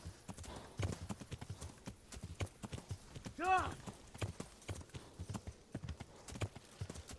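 Rapid hooves clip-clopping at a gallop, steady and close, with a brief horse whinny partway through and a voice talking over the hoofbeats, in Kingdom Come: Deliverance.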